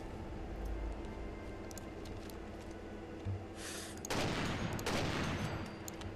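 A .50 caliber rifle fires in the video game Fallout 4, giving two loud, sharp broadband blasts about a second apart over a low ambient game hum.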